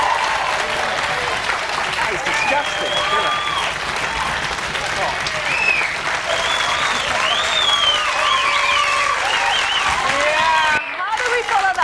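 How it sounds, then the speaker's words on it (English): Studio audience applause for a guest on a local TV show, loud and sustained for about eleven seconds with voices talking over it before it cuts off. "Can I have a round of applause for Mr."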